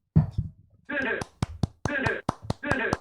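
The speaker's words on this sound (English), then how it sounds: "Those are claps." A few sharp hand claps sound close in a small room, some alone and some between bursts of conversational talk.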